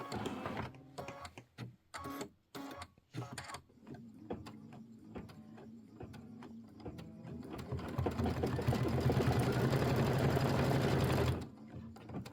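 An embroidery machine stitches light tan felt, starting with a series of separate mechanical taps and clunks, then settling into a loud, steady, rapid stitching drone for several seconds before cutting off.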